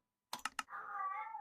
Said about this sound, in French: si vous entendez mon chat qui miaule